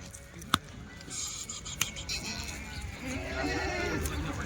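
Kathiawadi dairy goats kept alongside buffaloes in a farm shed, with a couple of short bleats over steady background noise and faint rustling.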